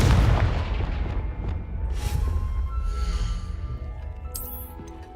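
A booming Confringo blast spell explosion in the video game Hogwarts Legacy: one heavy, close detonation that rumbles and fades, followed by crackling magical shimmer, with no talk.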